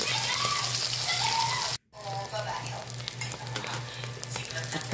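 Balut with bacalao sizzles steadily in a frying pan, a close, continuous crackle and hiss of hot oil that cuts out for a moment partway through and then resumes.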